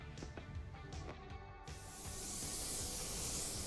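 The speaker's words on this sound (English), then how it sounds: "now I am applying my high solids clear coat. I am using my trusty Iwata WS400. I'm spraying at 29 psi." An Iwata WS400 spray gun at 29 psi sprays high solids clear coat, starting as a steady loud airy hiss after some faint handling noises, and continuing unbroken to the end.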